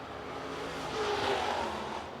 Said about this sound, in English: Out on the track, you have the 93S out on the racing surface for Bo Slade.